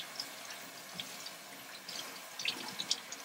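Cold tap water running into a sink while wet felted wool slippers are rinsed, a soft steady stream with splashes and drips growing busier near the end.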